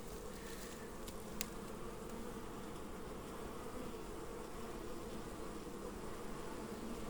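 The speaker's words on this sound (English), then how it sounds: "This hive here, very, very active. Tremendous amount of activity coming in and out there." Honey bees buzz densely at a very active hive in Álava, Basque Country, a close, continuous drone of many wings with no talk over it.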